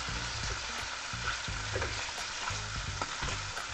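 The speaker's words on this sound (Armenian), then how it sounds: "և տապակում միասին" Carrots and onion fry together with chicken pieces in a pan over lowered heat, a steady close sizzle with repeated scraping and stirring sounds.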